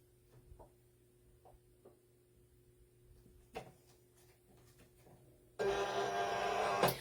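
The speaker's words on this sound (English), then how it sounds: "Load the mat into the machine" Silhouette cutting machine drawing in a cutting mat loaded with vinyl: a few faint clicks and taps, then a loud, steady mechanical whirring and rumble that starts abruptly and runs to the end.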